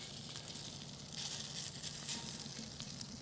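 Bratwurst sizzles in a pan over a hot rocket stove, a steady crackling hiss that swells slightly as the sausages settle, heard up close and continuous with no voices.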